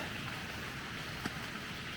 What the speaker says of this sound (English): it is definitely raining outside